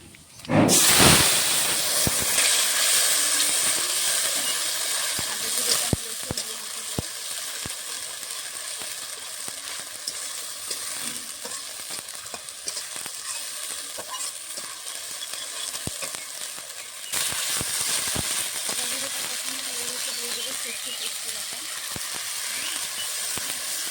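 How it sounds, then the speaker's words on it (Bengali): Nigella seeds hit hot mustard oil in a pan with a sudden loud sizzle that settles into a continuous hiss and crackle, with occasional stirring clicks and a second burst of sizzling later. "সর্ষের তেলে আমি কালো তেলে ফোড়ন দেবো"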